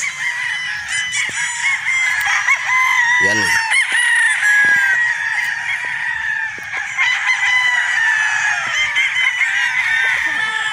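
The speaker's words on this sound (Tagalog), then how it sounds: "Ipapasilip ko sa inyo para makita nyo rin yung kanyang manok na dumating dito" Several gamefowl roosters crowing loudly and repeatedly at a game farm in Batangas, overlapping one another amid a busy flock, with other fowl calling and a brief spoken word.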